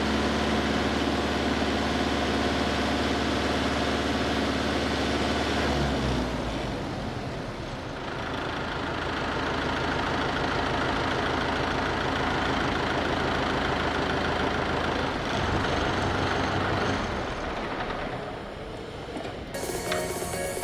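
A Mahindra YUVO 575 DI tractor diesel engine idles at low RPM, around 800, with a steady low rumble that shifts partway through and continues evenly up close, no voices.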